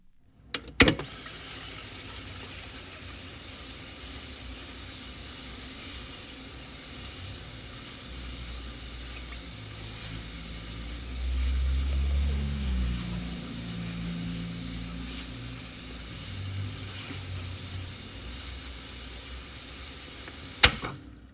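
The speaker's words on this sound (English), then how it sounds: "That is the sound of my Roland Space Echo." Roland Space Echo RE201 tape echo unit from the 1970s, a mechanical machine giving a steady hiss and low rumble that swells in the middle, with sharp clicks at the start and near the end.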